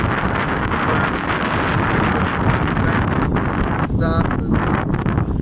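Strong wind roars steadily across the microphone aboard a sailboat on a bumpy sea, a loud, constant buffeting rush that continues throughout.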